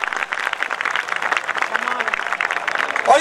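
A college farewell-party audience claps together in a dense, steady wash of applause that holds for a few seconds at moderate loudness, with no one speaking over it.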